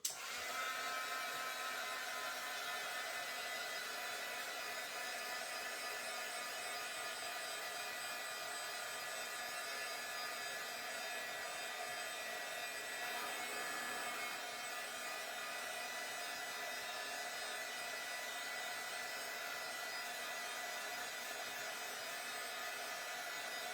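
Heat tool blowing steadily to set wet paint, a soft, even hissing airflow that runs unbroken and fairly quiet throughout.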